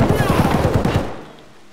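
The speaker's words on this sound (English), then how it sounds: "I shot him twice, but he got me." Gunfire in the video game Escape From Tarkov: a rapid burst of loud, close shots in quick rhythm, over within a second and fading into quiet.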